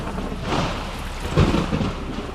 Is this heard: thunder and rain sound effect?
yes